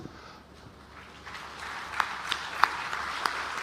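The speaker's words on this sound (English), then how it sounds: "we give them an applause" Applause from the audience at the Kilifi International Investment Conference in Kenya for the county and private-sector team, beginning softly and building into steadier clapping with a few sharp, close claps standing out.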